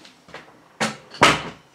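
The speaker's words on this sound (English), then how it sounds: "Let me just shut the door." A door is pushed shut indoors, starting with a couple of soft knocks and ending in two firmer, louder thuds of the closing door.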